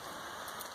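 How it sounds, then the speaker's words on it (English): Pouring rain on the Appalachian Trail, up in the clouds near a trail shelter, makes a dense, unbroken hiss of heavy rainfall, close and steady, with no voices. "It's pouring rain."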